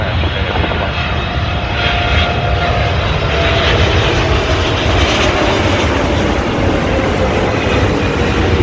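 A heavy airliner comes in to land at Sydney Airport, a loud, broad roaring jet rumble that holds steady and swells slightly over several seconds, with no voices.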